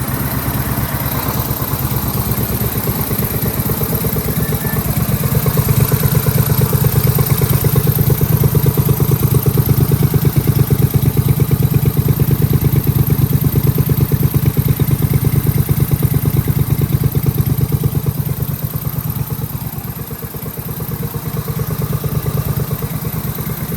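A brand-new Briggs & Stratton Vanguard engine running steadily, close and loud, with a low clattering throb that swells midway, dips briefly near the end, then recovers.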